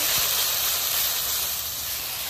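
Turmeric, chili and coriander powder with salt frying in oil, a steady soft hiss running from start to finish with no breaks.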